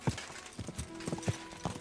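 Horse hooves clip-clop in Kingdom Come: Deliverance II, a slow, uneven series of soft thuds over a quiet ambient bed, fairly faint and close.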